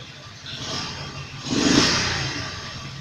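A small 139F gasoline engine runs steadily with a rough, noisy hum after carburetor adjustment, briefly revving louder in the middle before settling back toward idle.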